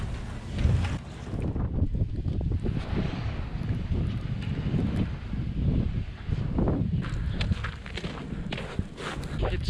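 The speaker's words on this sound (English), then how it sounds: "See how much snow blows in here." Wind gusts through a farm barn during a snowstorm with sleet and ice, blowing snow inside as a loud, rushing roar, with footsteps crunching close by.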